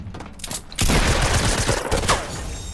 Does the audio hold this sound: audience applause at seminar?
no